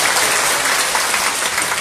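An audience at a city talk concert claps loudly and continuously, a dense unbroken round of applause.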